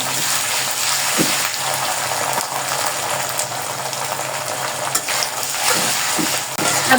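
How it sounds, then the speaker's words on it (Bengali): Ginger garlic paste sizzling with fried onions in a wok, a dense continuous hiss with a few stirring knocks and scrapes, close and fairly loud with no talking. "দিয়ে দেবো আদা রসুন বাটা।"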